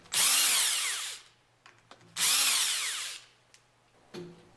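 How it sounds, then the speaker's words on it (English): An impact wrench fitted with a 5mm hex bit loosens the top cover bolts on a General Pump MKS/LK plunger pump, running in two loud, close rattling bursts with quieter clicks between them. "Use the impact wrench with a 5mm hex attached to loosen the 4 bolts from the top"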